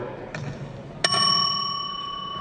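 A faint tap, then a single bright bell strike rings out clearly and sustains with a slowly fading metallic tone.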